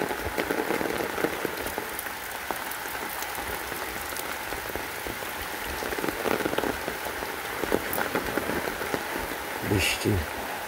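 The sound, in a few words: rain falling on a pond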